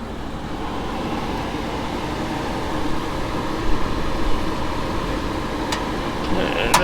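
A Nissan NV3500 SL van's 5.6 liter V8 idles smoothly in the engine bay, a steady low rumble with an even hum that holds at a moderate level throughout.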